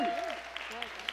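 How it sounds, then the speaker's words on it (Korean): Applause from a church congregation at a Pentecostal conference service in LA, a brief burst of clapping under a speaking voice. "박수!"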